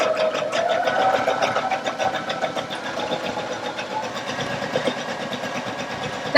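A Baby Lock Allegro sewing machine runs steadily, stitching a repeating decorative heart pattern with a continuous close whirring hum and rapid needle rhythm, no one speaking.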